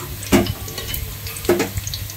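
Chili powder being stirred into a curry in a pan, heard as two distinct spatula scrapes over a soft background sizzle, close and brief, with no speech.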